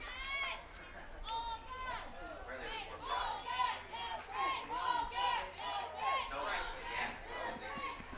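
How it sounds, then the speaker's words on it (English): A crowd of fans chanting for Altamonte at a 10U Cal Ripken World Series youth baseball game, with rhythmic, repeated, mid-distance voices rising and falling in waves over general chatter. "Crowd chanting for Altamonte, all gas, no brakes."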